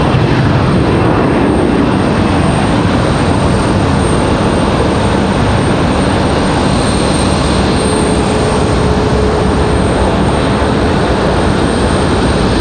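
Loud, steady roar of a Southwest jet rolling out at Raleigh-Durham airport, a broad rushing engine noise that holds close and constant throughout with a faint whine above it.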